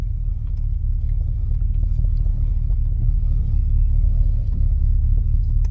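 An Avanti car engine with a misfire runs in a steady, loud, low rumble throughout while the car drives along, with no talking.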